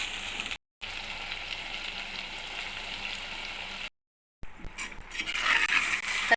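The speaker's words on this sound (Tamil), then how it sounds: "மசாலா தடவை வச்ச கத்திரிக்காய் சேர்த்துக்கலாம். கத்திரிக்காய் நல்லா எண்ணெயிலே வதங்கணும்." Masala-coated eggplant fries in oil in a pan with a steady close hiss, broken by two short silent gaps, then rising sizzle with faint clinks near the end.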